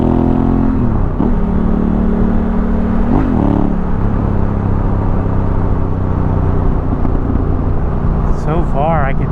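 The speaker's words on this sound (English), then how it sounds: "This bike sounds so good." Steady engine drone and wind rumble from a motorcycle cruising at freeway speed, heard from inside a Sedici Viaggio Parlare adventure helmet, with brief revving swells and some music in the background.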